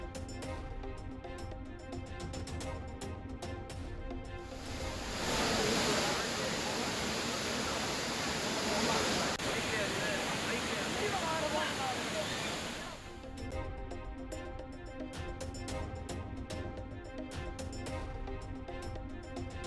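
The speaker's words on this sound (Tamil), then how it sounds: "ஆர்ப்பரித்து கொட்டும் அருவியில் குளித்து மகிழ்ச்சி." The Courtallam waterfall roars with a dense, loud broadband rush lasting about eight seconds, set between stretches of a news presenter speaking.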